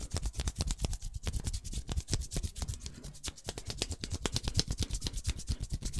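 Fast, rhythmic scratchy rubbing strokes of a knuckle bone being rubbed quickly, repeated rapidly and evenly, close up, with no voices.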